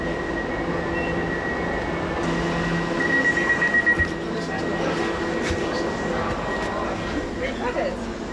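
A London Elizabeth line train rumbles steadily nearby, with a faint wheel squeal and a brief rhythmic clatter, while people talk over the continuous rail noise.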